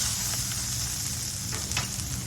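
Steak au poivre sizzles loudly in a frying pan, a dense, continuous hiss and crackle with a couple of brief bursts of spattering, close and without speech.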